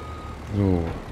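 A truck in Farming Simulator 22 revs and drives, a short engine swell rising and fading as it moves off, fairly close and loud.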